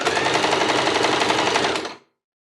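A sewing machine stitching bias binding onto a mixer cover: a fast, continuous mechanical rattle of needle strokes, loud and close, running for about two seconds before stopping abruptly.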